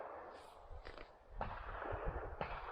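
Gunshots from target shooting on a farm, a few distant sharp cracks spaced about a second apart, faint against outdoor background noise with no talk.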